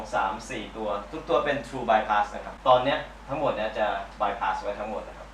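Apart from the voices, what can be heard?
None of the usual background noises is heard.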